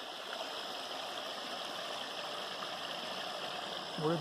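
A small creek joins another stream at a confluence on the Appalachian Trail near the Kennebec River, giving a steady, close rushing flow of water throughout, with a brief louder splash at the end.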